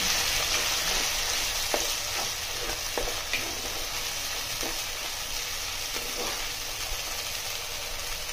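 Cashew nuts fry in hot oil for a chicken curry, giving a steady close sizzling hiss with faint intermittent stirring taps throughout.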